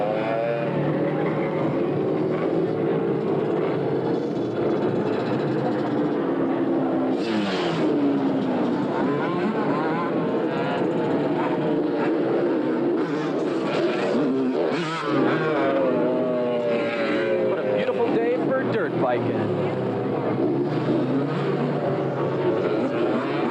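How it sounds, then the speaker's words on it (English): Dirt bike motorcycles from a riders' club rev their engines as they ride in a 1988 Christmas parade in Berkley. A dense, continuous engine roar with rising and falling revs fills the whole clip, and surges and nearby crowd noise run through it. "the typical biker club when you think of biker clubs. As they rev their machines."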